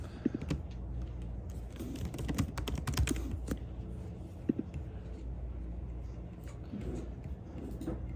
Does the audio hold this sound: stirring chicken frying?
no